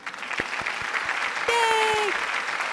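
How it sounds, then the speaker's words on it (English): A small group claps in a room, loose and uneven, with a whooping cheer rising over the clapping partway through. "I know everybody's applauding."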